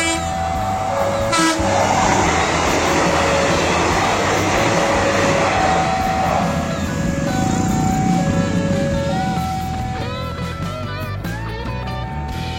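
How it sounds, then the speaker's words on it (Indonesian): A feeder passenger train bound for Bandung passes close by from the west, with a loud sustained rumble and rail clatter throughout and several long horn blasts sounding over it. "dari arah barat akan melintas kereta api feeder tujuan akhir stasiun Bandung"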